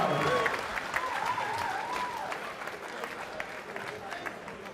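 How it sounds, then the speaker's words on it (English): Sustained applause and crowd noise fill a boxing arena at SkyCity Theatre late in round 5, steady and broad throughout, with a commentator's voice running over the top. "The crowd love it."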